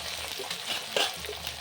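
Chopped tomato frying in a pan with garlic paste and ginger paste, a steady close sizzle with a few stirring scrapes and small pops, short and alone without talk.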